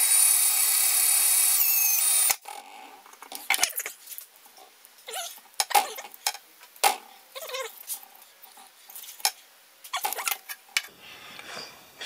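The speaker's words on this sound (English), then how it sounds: "the drilling is going great. This is my last pilot hole" Drill boring pilot holes in wagon metal, with a steady high whine at first, then a series of short, uneven bursts and scraping bites separated by quiet gaps.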